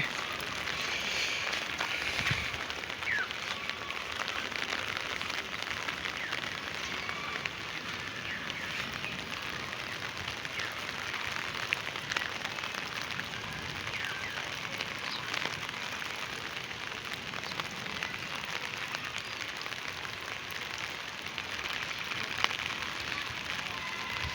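Steady, heavy rain falls outdoors in a green village, a dense continuous hiss with no letup, close and even throughout.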